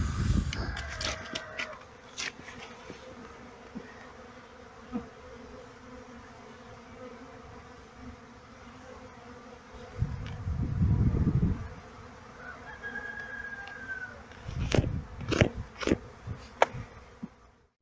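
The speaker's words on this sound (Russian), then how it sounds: "Пчелочки начали у меня облет." Honeybees buzzing as they fly out of winter hives on their first cleansing flight in late February, a soft continuous hum with louder passes of individual bees close by.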